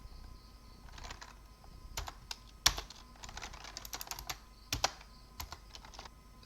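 Typing on a computer keyboard while entering Linux commands: irregular, close-up key clicks in quick clusters with brief pauses, fairly quiet, and no talking.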